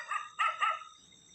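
A dog barks at night around 11:30 outside a house, giving three quick, moderately distant barks in a close cluster and then falling quiet.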